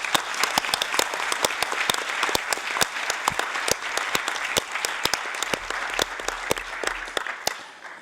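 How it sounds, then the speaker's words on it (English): Audience applause for the co-chairs at the closing session of a conference meeting, a sustained dense run of many claps with sharp individual hits standing out, steady throughout and easing slightly at the very end. "we'd like to have a sincere round of applause for our co-chairs"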